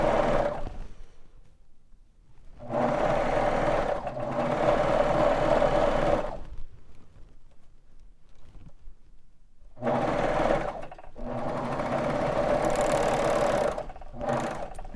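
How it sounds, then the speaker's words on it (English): A Baby Lock Vibrant sewing machine stitches toddler pajamas in two long runs of steady close whirring, separated by a few seconds of near silence, with short pauses in the motor hum. "So I'll just trim that off and sew all the way down."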